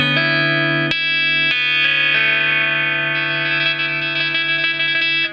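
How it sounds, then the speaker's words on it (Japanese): T's Guitars electric guitar played through heavy distortion, sustained chords ringing loud and thick with a few sharp re-strikes and layered effects, no voices over it. "歪みのパワー感めちゃくちゃいいっすね"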